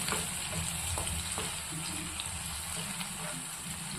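Rice with garlic and onion paste sautéing in a pan on low flame, a soft constant sizzle with a few light stirring scrapes, close and even, without speech.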